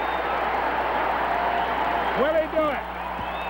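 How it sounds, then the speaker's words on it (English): A packed baseball stadium crowd at Yankee Stadium roars and applauds steadily during a 1983 Yankees game, a dense wash of cheering under a play-by-play announcer's voice. "This crowd is standing. This crowd is wild."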